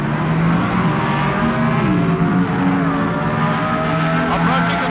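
Chevrolet Monza drag racing cars launch together at the 1978 NHRA Gatornationals, their engines roaring loud and sustained with rising revs down the strip. A commentator talks over the noise.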